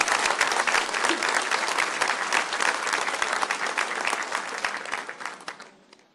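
A crowd at an official event for a granulated fertilizer production plant in Cochabamba breaks into dense, sustained applause that fills the room for about six seconds, then thins and fades out at the end.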